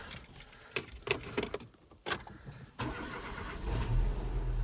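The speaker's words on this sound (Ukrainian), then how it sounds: "Завівся, працює" A 2009 Renault Megane 2 cranks with a few short starter bursts, then fires and settles into a steady idle hum, close by and moderate in level.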